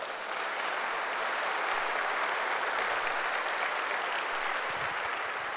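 Congregation applause during a Sunday church service, a dense, even burst of clapping filling the room, loud and sustained with no voices over it.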